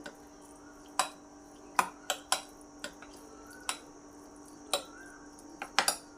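Wet, clicky taps and squelches of a spoon stirring thick semolina bread batter in a bowl, a handful of short close strikes spaced irregularly over a quiet background.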